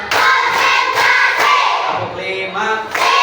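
Classroom of fourth-grade pupils clapping together in a rhythmic cheer, loud repeated bursts of claps with crowd-like voices mixed in, steady and energetic throughout.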